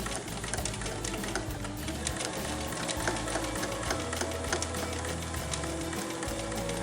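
A sewing machine stitches through thick, pleated face mask fabric, running in a steady fast mechanical chatter with small shifts in speed, close and loud, with no talk.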